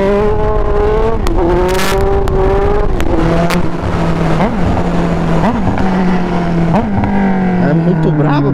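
A Honda CB1000 motorcycle engine revs up and down in loud, rising and falling bursts, with a person talking over it.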